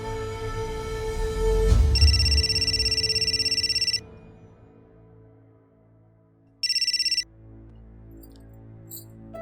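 A telephone rings loudly in a Pakistani drama scene, sounding two electronic bursts separated by a pause. A low musical score plays underneath, and no one speaks.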